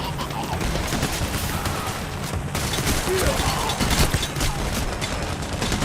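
Continuous gunfire from a Payday: The Heist gold-robbery mission, a dense, steady fusillade of overlapping shots that stays loud and close throughout, with a short dip in the middle.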